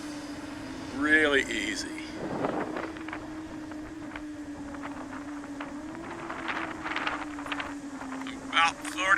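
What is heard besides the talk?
iFlight Helion 10 FPV drone launching and flying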